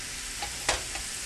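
Sausage sizzles in a frying pan while being broken up, a steady frying hiss with a few soft scraping stirs and one sharper clack of the utensil.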